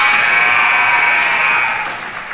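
A loud, sustained electronic buzzer sounds at the end of the third quarter of a women's college basketball game against Jefferson University, holding steady for about two seconds over crowd noise before fading.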